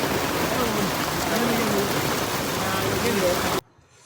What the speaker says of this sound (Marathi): थंडी पण वाजते, पाऊस पण पडतोय आणि ऊन पण पडलंय